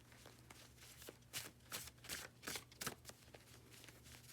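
Tarot cards being shuffled by hand, a series of quiet, crisp riffling bursts in an uneven rhythm, close and soft against a low background hum.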